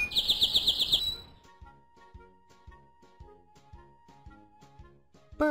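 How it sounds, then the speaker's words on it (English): Bird chirps from a kids' animal-learning app: a quick burst of bright, rapid tweets in the first second, then a light rhythmic tune with plucked, bouncy notes takes over. "Birds."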